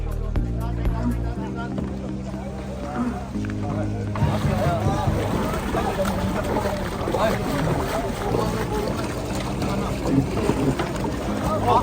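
A dragon boat moves across the water during a race or outing, with water rushing and wind buffeting the microphone throughout, while crew members shout and talk over the steady splashing.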